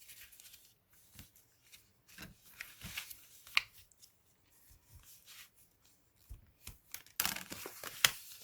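Paper creased by hand while folding a Christmas star, with soft intermittent rubs and crinkles, quiet and close, and a brief louder rustle near the end.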